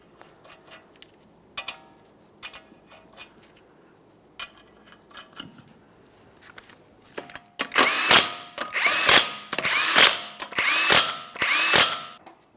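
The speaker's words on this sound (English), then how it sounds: "start on all 5 of your 21mm lug nuts and we'll bottom them out" A power tool spins 21mm lug nuts onto a 2014-2019 Toyota Corolla front wheel, starting with light clicks and taps, then several loud, close bursts of whirring and rattling ratcheting, alone without speech.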